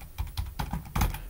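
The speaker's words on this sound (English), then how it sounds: "we're going to be typing in gPodder" Fingers strike a computer keyboard in a short run of about five distinct keystroke clacks, close and clear with no voice over them.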